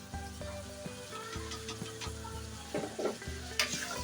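Chicken korma frying in a pot with red chili and turmeric added, a close busy sizzle with bubbling, spattering pops and stirring clatter throughout, no voices.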